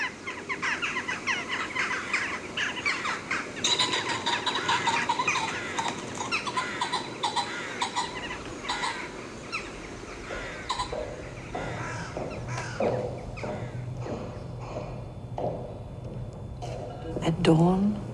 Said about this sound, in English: the approaching sounds of rooks, jackdaws and pheasants, which were returning to their roost sites in the trees and bushes along the path